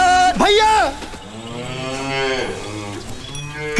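Water buffaloes moo in a comedy scene, with a sharp rising call at the start followed by longer, lower drawn-out lowing, loud and close.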